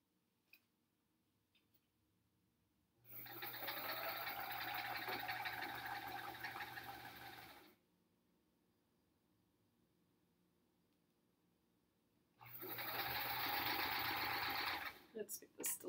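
A sewing machine stitches two quilt blocks together in two steady running bursts, a long one and then a shorter one, separated by a quiet pause, with no speech heard.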